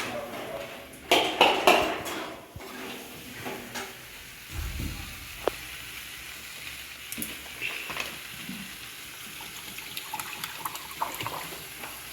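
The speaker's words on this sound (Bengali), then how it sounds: "কষিয়ে নেওয়ার পর জল দিয়ে দেবো।" Water goes into a pan of frying spices and a cashew, raisin and melon-seed paste, with a soft splashing rush among steady low sizzling and occasional stirring clinks. It stays fairly quiet throughout.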